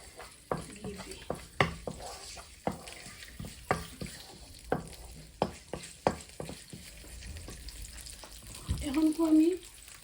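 Whole spices, cinnamon sticks and cardamom pods, frying in a spoonful of ghee: a steady crackling sizzle broken by repeated sharp scrapes and stirring knocks of a utensil against the pan, with brief speech near the end.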